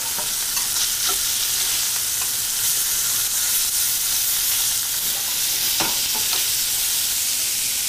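Thin halibut escalopes fry in a hot pan with a loud, steady sizzle and hiss that runs unbroken throughout, with faint crackles and pops scattered through it.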